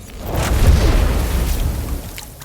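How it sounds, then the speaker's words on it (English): Explosion sound effect for a brewery storeroom blast in which a beer vat burst, a deep booming rumble that swells quickly and then rolls off over a couple of seconds. "a large explosion rocked the storeroom"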